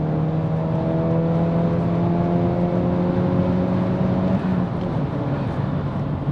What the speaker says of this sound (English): the car pulls nice and smoothly also